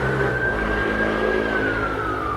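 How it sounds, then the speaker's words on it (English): A siren passing along a road near an allotment, a steady wailing tone drifting slowly downward over continuous traffic rumble, fairly loud throughout. "Oh, now let this siren go past."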